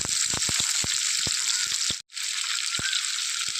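Dried red chillies, green chillies and garlic frying in hot oil for a Kerala-style dried prawn and mango pickle, giving a steady close sizzle broken by sharp crackles and pops, with a brief gap in the middle.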